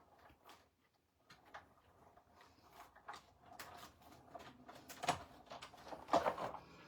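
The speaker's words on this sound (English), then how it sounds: "we'll run that through the die cut machine." A small hand-cranked die cut machine rolls stacked cutting plates through, giving faint, uneven mechanical clicks, creaks and scrapes that grow slightly louder toward the end.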